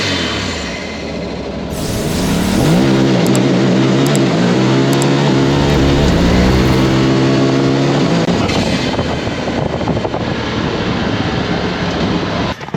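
A turbocharged Honda Talon 1000R side-by-side launches hard, its engine note climbing loud and close through the gears and then holding a steady roar.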